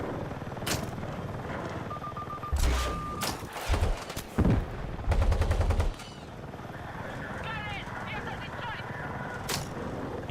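Battlefield 6 combat with bursts of gunfire and heavy booming shots, including a tank firing, in loud irregular volleys over a noisy battlefield, with a voice talking in between.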